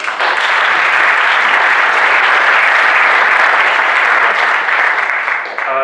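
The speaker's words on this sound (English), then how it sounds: "So here are a round of applause for Wei." A debate audience applauds a speaker at an engineering society debate on intelligent transport systems, a dense, loud wash of many hands clapping steadily throughout before tapering slightly at the end.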